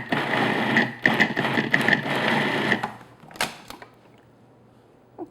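A food processor pulses butter into coarse crumbs for a peach tart: a loud mechanical whirring in short bursts with clicks between them, then a few brief pulses before quiet.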